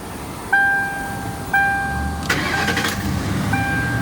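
A 2005 Ford Crown Victoria Police Interceptor is started up. Warning chimes ring repeatedly before the starter cranks briefly and the engine catches, settling into a steady idle heard up close.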